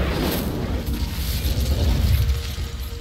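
Incendio fire spell cast in the video game Hogwarts Legacy, a dense roaring, whooshing burst of flame that sustains for about three seconds, close and loud with low rumbling underneath.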